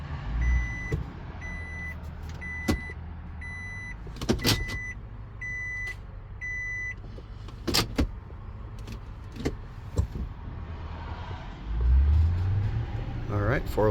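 2021 Toyota Tundra 4x4 in four-wheel-drive low, a low vehicle rumble with a repeating electronic beep chime and occasional clicks and knocks, under someone speaking.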